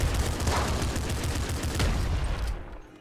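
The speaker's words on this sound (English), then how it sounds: "I'm gonna use the shotgun right now." Repeated shotgun blasts in the video game Nuclear Throne, a dense rapid barrage of loud shots for a couple of seconds before cutting off abruptly, with no talking.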